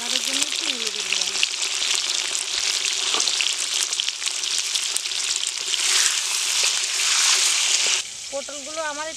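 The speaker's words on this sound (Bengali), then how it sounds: "পটলগুলো আমার একটু লাল লাল করে ভাজতে হবে।" Pieces of pointed gourd sizzle steadily in hot oil with salt and turmeric, frying to a reddish brown for a Bengali posto dish, a loud continuous crackle with occasional stirring and someone speaking over it.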